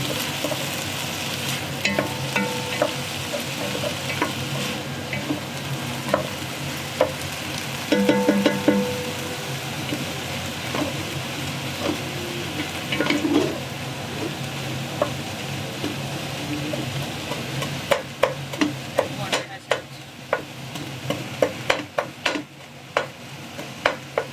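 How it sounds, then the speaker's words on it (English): Chopped green peppers stir-fried in a pan while a Chinese chef makes baked pasta with minced meat and vegetables: steady close sizzling with repeated scraping and clattering stirs, busier and sharper toward the end, with no talking. "here she added some chopped green peppers. Stir fry it a bit, let it cook a little bit."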